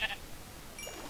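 A sheep in the Minecraft video game bleats in short, faint calls, one at the start and another near the end, over a low steady background.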